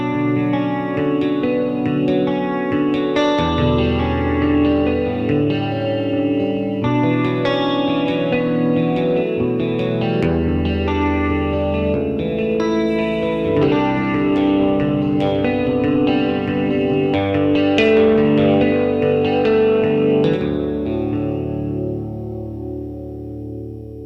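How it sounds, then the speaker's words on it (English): Electric baritone guitar played in its low register, sounding somewhat like a Strat, with a steady run of notes and chords through effects with chorus and a touch of distortion, loud and alone for about twenty-four seconds. "It almost sounds a little bit like a Strat in a low register."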